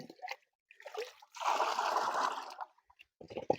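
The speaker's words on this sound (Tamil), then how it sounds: "இந்த மாதிரி ஒவ்வொரு பக்கெட்டுக்கும் 3 டப்பா ஊற்றிக்குவோம்" Water pours from a can into a bucket in a garden, a steady splashing trickle lasting about a second, with brief handling clatter before and after.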